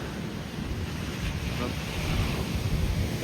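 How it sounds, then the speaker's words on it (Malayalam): Churning water waves near a sandy shore, a steady broadband wash mixed with wind buffeting the microphone, rising slightly toward the end with no talk. "വെള്ളം ഇളകി തുള്ളുന്നുണ്ട്."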